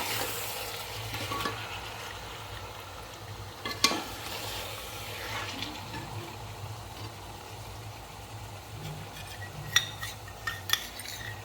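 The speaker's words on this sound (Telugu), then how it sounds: "కలుపుకున్న తర్వాత ఇప్పుడు చికెన్ వేసేసుకుందాం" Chicken sizzles softly in a pan for biryani while a spoon stirs it, with steady low frying noise and occasional metallic clinks against the pan.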